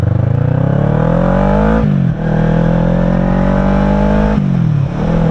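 A 2008 Kawasaki Ninja 650 motorcycle engine roars loudly and up close, its pitch climbing steadily and dropping sharply twice as it shifts gears.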